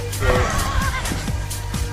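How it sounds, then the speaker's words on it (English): A horse at a pony club event lets out a loud, close whinny that wavers and trails off, with a low mechanical hum and light shuffling underneath. "Pablo, come and hold your horse. It's not going to kick you."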